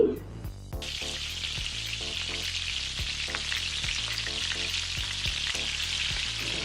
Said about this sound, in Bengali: এবার আমি ডাটাটাকে ভেজে নিচ্ছি এটাকেও বেশ লাল করে ভেজে নেবো